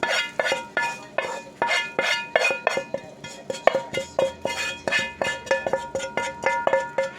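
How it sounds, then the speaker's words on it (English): Chopped onion being scraped from a board into a frying pan, a quick run of regular scraping strokes with metallic clinks against the pan, close and fairly steady throughout. "that's the frying pan I'm using, and I'm going to scrape all this onion into it."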